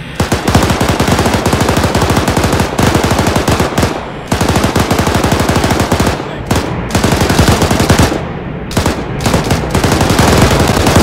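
Loud, dense automatic gunfire from a military shooter game, Arma 3, in long rapid bursts broken by brief pauses, close and dominant with no talk over it.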